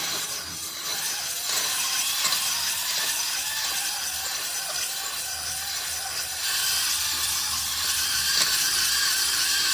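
A cylinder hone scrapes and grinds steadily inside the bore of a small 212cc engine, lubricated with coffee, a continuous abrasive rasp with slight rhythmic strokes that quickens toward the end, close and without talk.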